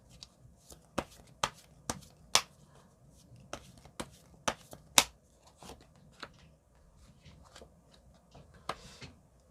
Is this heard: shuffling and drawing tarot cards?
yes